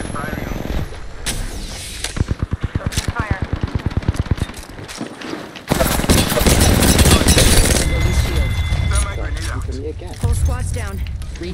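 Automatic weapon fire in the battle royale shooter Apex Legends, a player using a Phoenix kit: rapid bursts of close, loud shots with mechanical clatter and reload sounds, while a voice talks over the action.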